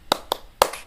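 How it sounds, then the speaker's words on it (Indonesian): A class doing a rhythmic thumbs-up clap, three crisp group claps close together, the last one loudest, with no talking. "Tepuk jempol."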